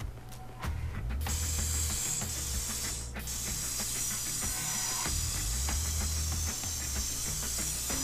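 In the video game inFamous Second Son, a spray can hisses steadily while spraying graffiti, with a short pause, then continuous loud close spraying over rumbling game ambience and no speech.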